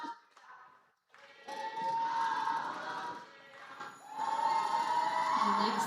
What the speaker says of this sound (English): If you hear the people cheering in the hall, it's a Netherlands fan club for Aquila